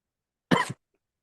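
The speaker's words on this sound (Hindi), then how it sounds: "ऑनलाइन खोख रहे हो, खांसी के मरीज, म्यूट करके खोखो।" A single short, sharp cough sounds nearby against otherwise silent surroundings.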